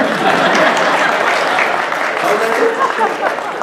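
An audience claps steadily and loudly throughout at a Telugu-language speech event, with dense sustained applause and a faint crowd murmur.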